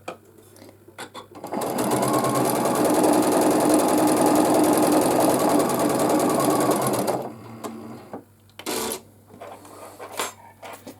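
A sewing machine runs in one steady, fast, continuous burst for about six seconds, stitching pairs of 5-inch quilt squares together for a baby quilt, then stops, followed by a few quiet handling clicks.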